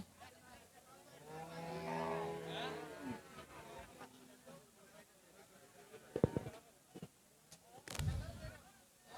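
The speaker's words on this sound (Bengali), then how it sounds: "এই পাশেও কিন্তু গরু আছে" Cows low at a busy cattle market selling milk cows, with a long moo early on amid people talking nearby, followed by sharp thuds and knocks.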